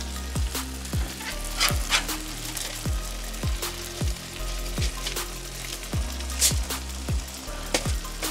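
Burger buns toasting on a Blackstone griddle for turkey sliders, giving a steady close sizzle with rhythmic tapping and scraping knocks repeating about twice a second.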